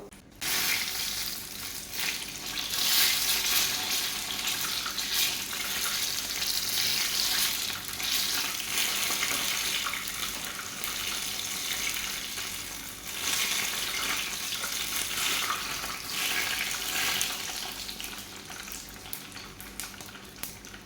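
Batter-coated chilli bajji deep-frying in hot oil, a continuous hissing sizzle with bubbling surges that swell and ease, heard close with no talk.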